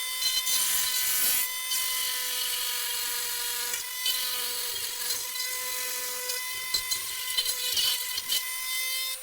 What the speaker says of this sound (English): This has mostly been done using a Dremel tool.